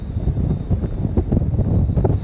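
A strong, cold wind over the Strait of Magellan buffets the microphone in a loud, continuous roar with gusty surges and low rumbling throughout.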